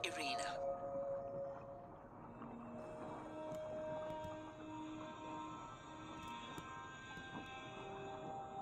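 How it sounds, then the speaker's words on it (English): A sperm whale in the underwater exploration game Beyond Blue gives drawn-out tonal calls and scattered clicks through a deep ocean rumble, with people talking over it. "That looks to be a sperm whale."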